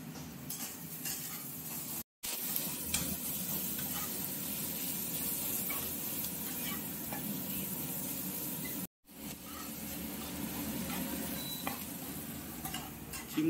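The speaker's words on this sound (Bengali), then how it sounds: "চিমনিটা এত আওয়াজ করছে" A noisy kitchen chimney exhaust hood in need of servicing drones steadily while onions and garlic fry in a home kitchen. The drone is a constant close whoosh, cut by two brief silences.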